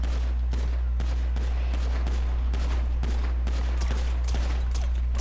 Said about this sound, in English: I'm just shooting, just in case they're behind us